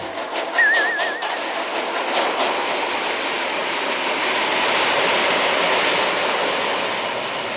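A roller coaster roars continuously along its track in a loud, steady rush, with a brief high squeal near the start.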